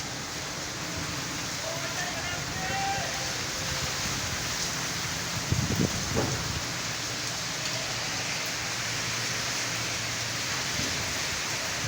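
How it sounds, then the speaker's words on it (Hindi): Heavy rain pours steadily in Jhelum, a dense continuous hiss of drops on surfaces, with a brief low thump midway and faint voices in the background. "बड़ी तेज़ बारिश लगी है बहुत तेज़ बारिश है"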